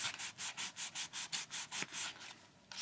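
Someone scrubs on a planner craft project with about ten quick, even rubbing strokes close by, then a short pause before one more begins.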